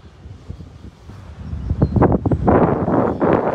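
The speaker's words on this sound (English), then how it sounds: "Hopefully it's not too windy for you." Gusty wind at Shinnecock Inlet in the Hamptons buffets the microphone with low, rumbling thumps that build from quiet to a loud, steady roar.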